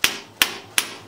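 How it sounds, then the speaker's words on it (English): Three evenly spaced, crisp hammer taps seating tight parts on a workbench assembly, each a sharp close knock with a short ring, with no talking between them. "I'm just going to do just a little tap to make sure they're"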